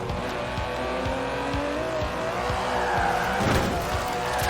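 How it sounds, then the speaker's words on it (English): In the Forza Horizon 4 racing game, an Aston Martin DB11 GT car drives hard, its engine droning loud and steady with tyre squeal and rhythmic thumps throughout. "It's bold, responsive, and agile, with perhaps the best GT chassis in the world."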